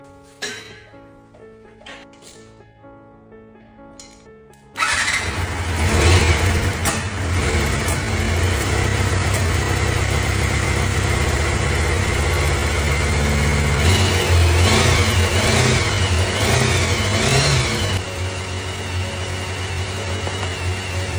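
After a few seconds of quieter mechanical sounds, the engine of a 1990 Honda CBR motorcycle, long unused, roars to life, running loud and rough with repeated revs rising and falling.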